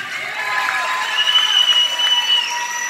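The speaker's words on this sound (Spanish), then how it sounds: "Fuerte el aplauso para Yasmín." Loud, sustained applause from a crowd at the awards ceremony of a 21 km university race in Cancún, honouring a third-place finisher, dense and continuous throughout.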